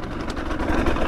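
Two-stroke dirt bike engine lugging at low revs as the rider shifts up through second, third and fourth gear, a steady close rumble with no talk over it.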